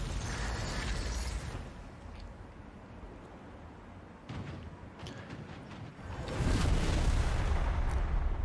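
Hell Cannon artillery in Total War: Warhammer 3 pounds a wall during a battle, heavy booming blasts with rumbling roar, one at the start and a louder, sustained explosion later, with battle noise in between.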